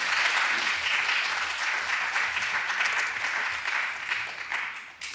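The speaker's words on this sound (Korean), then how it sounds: "박수로 환영하겠습니다" Church congregation clapping to welcome a pastor to the pulpit at a Wednesday worship service, a dense, steady applause that carries evenly for about five seconds and thins slightly near the end.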